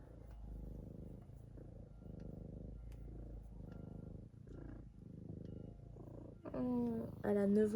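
A steady, low rumbling purr from a nine-year-old cat close by, rolling in continuous cycles; near the end a voice speaks over it.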